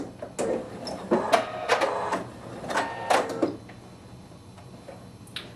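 A sewing machine stitches a blanket stitch on appliqué in short bursts, its needle clattering rhythmically in several quick runs separated by pauses, close and fairly loud.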